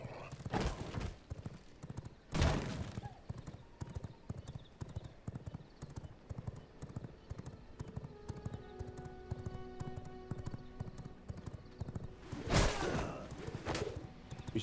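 Horse hooves clip-clop steadily in the video game V Rising, with an even rhythm at moderate volume, occasional louder thumps and faint bird calls in the background.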